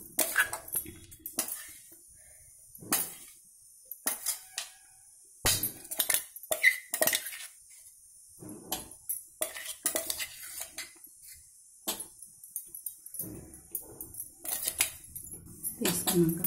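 Gongura pachadi being scooped from a grinder jar into a bowl, with repeated metal scrapes, clinks and knocks of a spoon against steel coming in short bursts separated by quiet gaps.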